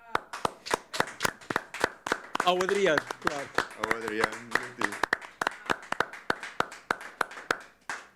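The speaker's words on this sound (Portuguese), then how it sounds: "Podemos bater palmas." Hands clap in a steady, brisk rhythm at a podcast-style recording, each clap sharp and close, carrying on while people talk and sing briefly over them.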